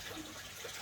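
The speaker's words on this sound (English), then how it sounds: "So the water will enter from the fish tank through this pipe." Water flowing from an aquaponic fish tank through a pipe toward a radial flow filter, a steady, faint broadband rush with no pauses, heard alone.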